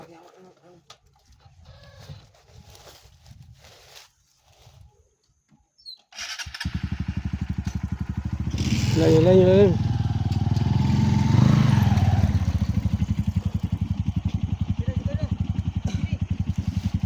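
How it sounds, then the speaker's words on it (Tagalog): A motorcycle engine starts up and runs steadily close by, loud and rumbling for several seconds, while a person speaks briefly and birds call faintly. "May motor, baka kalaban yan."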